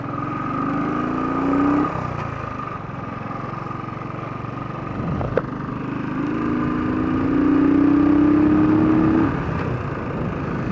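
A 2016 Royal Enfield Thunderbird 350 motorcycle engine revving up through gears, rising and falling in pitch as it accelerates, with a steady hum between pulls and a brief click.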